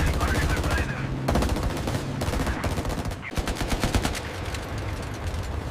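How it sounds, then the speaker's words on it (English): Heavy machine guns on a B-17 Flying Fortress bomber firing in dense, rapid bursts, loud and sustained with brief pauses between volleys, with a voice speaking over parts of it. "Every gun came alive at once."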